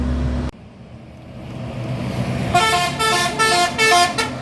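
A bus engine rumbles close by on the Kelok Sikabu mountain road in Indonesia, then a loud multi-tone horn blares in a rhythmic series of repeated blasts.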